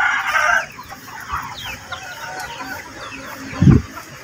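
Pet chickens cluck and call in a yard, fairly close, with a brief crow near the start and a low thump toward the end against quiet outdoor background.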